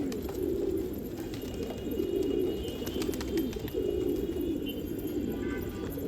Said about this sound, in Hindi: लाजवाब कबूतर है, बहुत ही शानदार